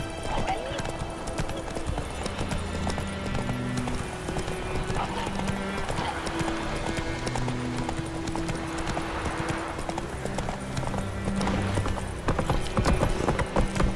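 Roach the horse gallops through The Witcher 3 in a steady, loud clip-clop of hooves, with a brief whinny and a game music bed underneath.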